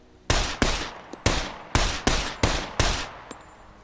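Single-fire gunshots from a weapon in the video game SCUM, about eight sharp, loud reports fired one at a time at an uneven pace, each ringing out briefly, with a couple of fainter clicks between them.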